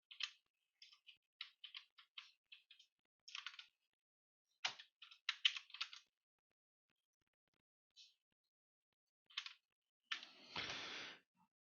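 Clicky keystrokes on a computer keyboard in a quiet room, coming in short irregular bursts with pauses, then a brief louder rustle near the end; no talking.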